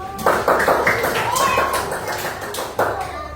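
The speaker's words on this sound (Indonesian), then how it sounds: "Tepuk tangan dulu" A group of children clapping their hands in a classroom, a few uneven rounds of claps at close range, mixed with faint voices.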